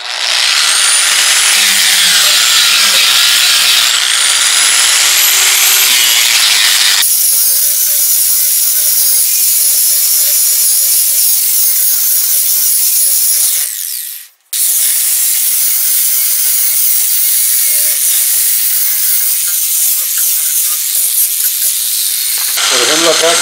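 A Truper ESMA-45110 variable speed angle grinder strips paint from a metal piece, making a loud, steady high-pitched whine and grinding roar that cuts out briefly midway and then resumes at full force.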